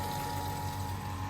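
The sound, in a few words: power flushing machine pushing water through radiator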